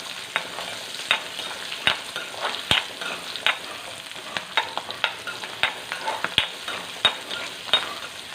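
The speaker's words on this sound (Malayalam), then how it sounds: "നമ്മളിതിനി ഈ എണ്ണയിലോട്ട് ഉള്ളി ഇടുവാണേ" Onions sauté in hot oil, a steady close sizzle broken by frequent sharp scrapes and taps of a spatula stirring the pan, with no talking.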